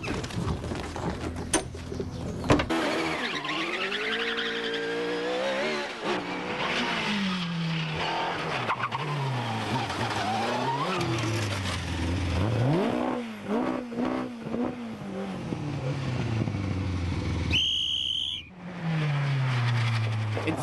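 Hill climb race cars drive past, their engines loud and close as the pitch sweeps up and down through repeated revs and gear changes, ending in a brief lull before another engine note returns.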